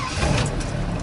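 A 1968 Chevrolet Camaro V8 with a two-speed Powerglide transmission running just after start-up, a steady close engine drone for about a second.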